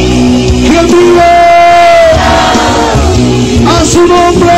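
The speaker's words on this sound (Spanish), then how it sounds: "Dale un grito de júbilo al Señor." A church congregation lets out loud, joyful shouts and cheers of praise to the Lord, the crowd's voices overlapping in one long burst of yelling and whooping.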